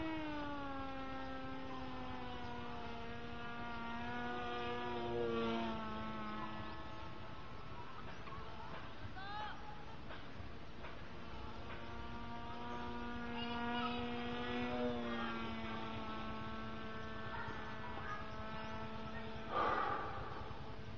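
Electric radio-controlled model airplane flying overhead on a battery and motor setup, a steady whining motor tone that rises and falls in pitch as it passes, fairly clear with no talk.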